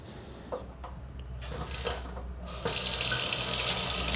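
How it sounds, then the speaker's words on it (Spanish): Water pours and splashes into a Candy dishwasher, starting with a few drips and trickles before a strong, steady stream takes over and runs continuously to the end. "le voy a echar agua como si fuera adentro de la máquina"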